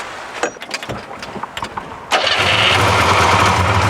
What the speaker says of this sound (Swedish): Nu ska vi se om det låter något i motorn.